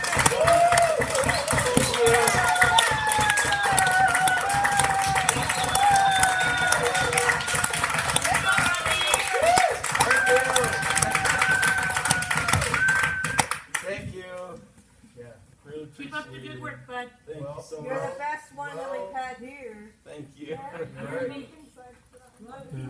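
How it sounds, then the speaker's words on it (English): Crowd at an annual general meeting claps and cheers loudly for about fourteen seconds with shouts mixed in, then the noise cuts off and someone speaks over scattered laughter. "We need to give Rob a serious hand clap"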